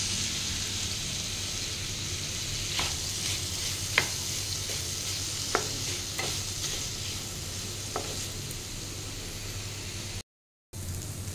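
Boiled potato and grated ginger filling for bread chop being stirred in a pan, with a steady soft sizzle and a few sharp scrapes and taps of the spoon against the pan, heard alone without talk.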